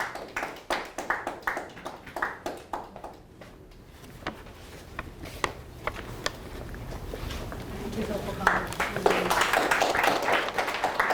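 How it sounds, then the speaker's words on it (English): An audience at an IIT Bombay alumni event claps for guests: a run of separate, evenly spaced claps that thickens into denser, steadier applause toward the end. "Please give a loud round of applause for the guests for taking out their time and sharing this journey with us."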